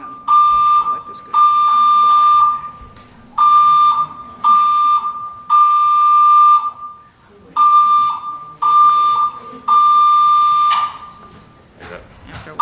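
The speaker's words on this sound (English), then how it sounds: "which commissioner pulled the fire alarm?" A fire alarm sounds in a public hearing room, giving loud, steady electronic tones in repeated bursts about a second long with short gaps between them. Faint voices are heard near the end.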